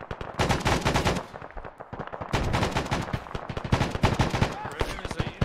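Dense bursts of automatic gunfire in the ARMA military video game, rapid close shots in rattling volleys with brief pauses, loud and continuous.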